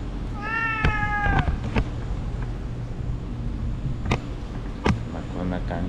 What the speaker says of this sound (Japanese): 猫も寄ってくる。